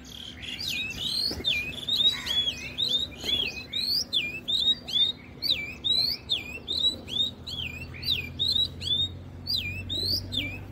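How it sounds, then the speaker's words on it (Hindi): A small bird chirps and sings in quick repeated whistling phrases, fairly close and steady over a faint low hum, with no talking. "वो नन्हा पक्षी ऊपर बैठा है"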